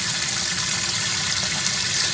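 Small white pump in the back corner of a small bass boat filling the live well, a steady soft hiss of running water, constant and fairly close, with no talking.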